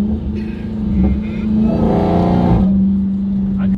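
A Dodge Hellcat engine revs while driving, heard from inside the car as a loud droning hum that climbs in pitch, then settles back to a steady tone.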